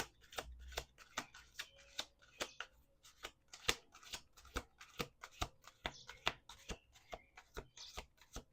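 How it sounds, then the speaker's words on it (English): Rapid riffle-shuffling of playing cards, a burst of crisp fluttering clicks repeated in quick succession, close and fairly quiet, with no voices. "Last shuffle."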